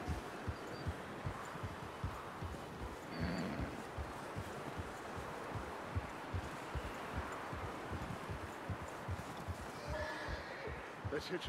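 Horses in a video game clop their hooves in a steady rhythmic gait and whinny briefly, with low rumbling game ambience underneath.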